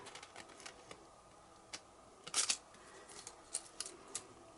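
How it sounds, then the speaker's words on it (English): Fringe scissors snipping paper for paper palm fronds, producing scattered, close, crisp clicks and short snips, with a brief denser burst of cutting partway through. "you just barely open your fringe scissors and push the paper towards the scissors"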